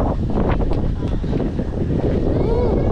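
Steady wind gusting across an outdoor spot at Minalungao National Park, with a constant rushing buffet filling the whole stretch and faint voices beneath it.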